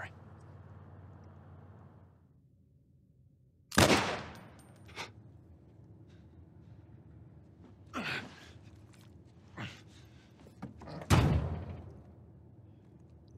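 Gunshots in The Last of Us Part I ring out as two loud, sharp bangs several seconds apart, with softer thuds and impacts between them over a quiet background.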